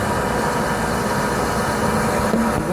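A lathe runs at 450 RPM, giving a steady, loud mechanical drone and hum that stays level throughout with no pauses.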